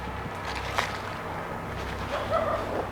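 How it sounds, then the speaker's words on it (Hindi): Dogs bark faintly in the distance near a main highway, a few scattered yips rising over a steady outdoor background rumble. "कुत्तों की आवाज़ें आ रही हैं।"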